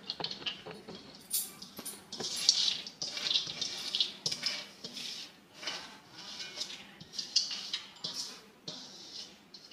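Soaked white lentils and their water pour into a wok, giving a soft, irregular splashing and pattering of liquid for several seconds, fairly faint and close, with no talking.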